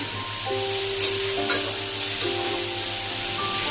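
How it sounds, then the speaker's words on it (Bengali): Tomatoes frying in oil in a pan for a green-chilli small-fish curry are stirred and mashed. A steady, close sizzle with a faint tonal hum runs throughout, broken by a couple of brief scraping knocks. "এইভাবে নাড়তে নাড়তে টমেটোটা পুরোটাই গলে গেল এবং ভালো করে স্ম্যাশ হয়ে গেছে"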